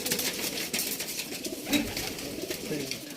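Kalanka pigeons cooing softly at a home loft, low murmuring coos repeating under faint background noise.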